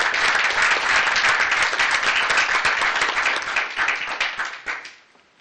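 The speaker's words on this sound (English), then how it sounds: "You could give them a round of applause" At a community meeting, an audience gives a loud, dense round of applause for program participants, sustained close clapping that thins out and fades away over the last second.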